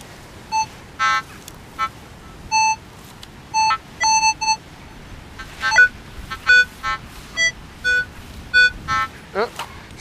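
A metal detector gives a series of short tonal beeps in an uneven rhythm while hunting for a roughly 300-year-old padlock outdoors, with people talking faintly in between.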